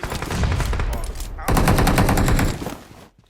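Rapid sustained automatic gunfire from an AKM rifle in the PUBG Mobile video game, loud and close in two long bursts separated by a brief gap, then cutting off.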